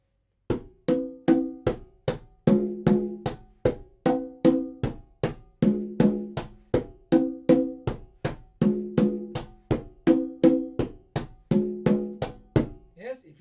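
Slow single and double hand strokes on a tumbadora conga drum, a steady pattern of sharp, resonant slaps and tones played close and alone, ending with a brief voice.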